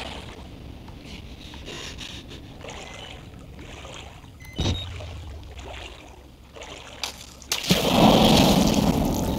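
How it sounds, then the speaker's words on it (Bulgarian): In the horror video game Outlast, a character jumps into water with a loud, close splash near the end, followed by churning water. Quieter dripping and ambient noise with a brief thud come before it. "Скачаме във водата."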